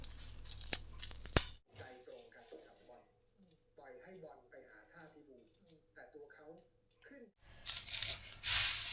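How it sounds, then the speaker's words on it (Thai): Dried nori seaweed is torn by hand into small pieces, with crisp tearing and crinkling bursts at the start and end and someone talking quietly in between. "ฉีกออกแบบนี้นะคะเป็นชิ้นเล็กๆนะต้องใจเย็นๆ นะคะ ค่อยๆฉีกไปนะจ๊ะเพื่อนๆ"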